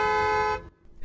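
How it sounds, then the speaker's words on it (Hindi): A Mercedes-Maybach GLS 600 Night Series fanfare horn gives one loud, rich multi-tone blast for about half a second, then cuts off sharply into quiet. "फैन फेयर हॉर्न है"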